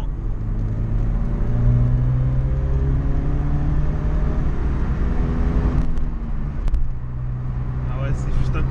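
A Ford Sierra RS Cosworth accelerates hard through the gears, its engine note climbing in pitch over several seconds before shifting, loud and close from inside the car, with a brief clatter of other noises near the end.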